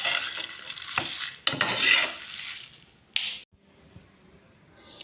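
A spoon stirring egusi melon seeds as they toast in a pan, scraping metal-on-pan strokes with light sizzling, a sharp clack near the end and then quiet.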